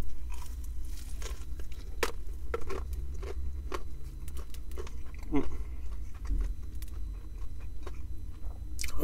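Crunchy bites and chewing on a thick, heavily seasoned KFC crispy fried chicken burger with bacon (B.O.S.S Maxx Bacon), close-up, with irregular crackling bursts over a steady low background rumble.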